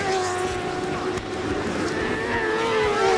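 Kawasaki ZX10 superbikes race at Killarney International circuit, engines droning loudly with steady high-revving tones that rise and shift as bikes pass, with a commentator talking over the noise.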